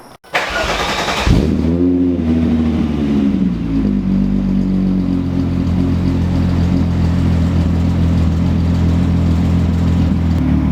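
A car engine fires up loudly, then settles into a deep, rumbling idle with an uneven, loping exhaust pulse, close and steady throughout.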